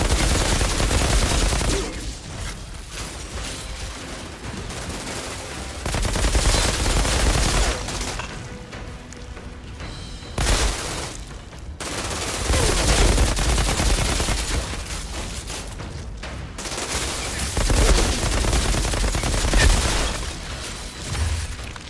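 Gunfire in the video game Outriders: dense bursts of rapid automatic shots and blasts in loud waves, with short lulls between volleys, close and continuous.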